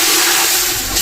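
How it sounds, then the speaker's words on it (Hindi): Water poured into a cooking pot of fried onions and spices for Bangladeshi dal chawal, a loud continuous rushing splash filling the whole second. "तो पानी डालेंगे"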